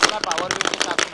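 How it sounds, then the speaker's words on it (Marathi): Firecrackers burst in a quick run of sharp crackles at a local cricket tournament, heard beneath a loud announcer speaking over the celebration. "फटाक्याच्या आतषबाजीमध्ये"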